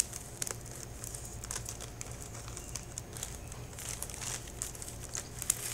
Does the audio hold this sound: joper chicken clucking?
no